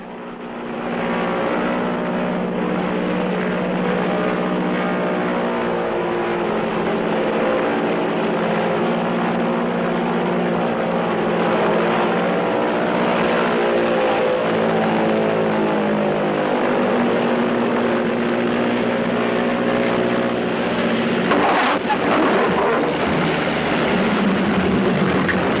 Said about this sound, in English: we hired 2 light planes and flew across from the mainland